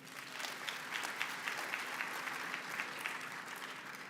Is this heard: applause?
yes